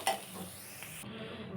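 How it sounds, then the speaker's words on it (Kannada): Hot oil sizzles softly as spices are stirred in for tempering for a cabbage egg bhurji, with a close, quiet, steady fizz, a brief spoon scrape at the start and no talking. "ಇದು ನಾನು ತೆಗೆದು ಇವಾಗ ಒಗ್ಗರಣೆ ಕೊಡ್ತೀನಿ."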